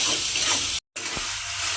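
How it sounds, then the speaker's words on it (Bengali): A salted mixture of rohu fish and potato fries in a pan with a steady close sizzle, broken by a brief silent gap and a light stir, and no voices. "নুনটা দিয়ে এবারে এইটাকে আমাকে একটু ভাজা ভাজা করে নিতে হবে।"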